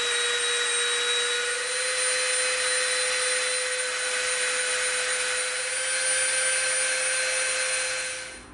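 A rotary tool whines steadily and loudly while rounding the edge of a piece of EVA foam for a tomahawk prop, holding a constant high pitch before cutting off at the end.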